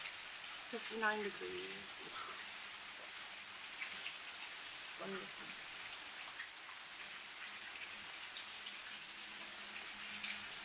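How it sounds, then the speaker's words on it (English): Steady rain falling outdoors during a thunderstorm, a soft continuous hiss that runs the whole time, while someone speaks briefly over it near the start and again midway. "I love the sound of the rain."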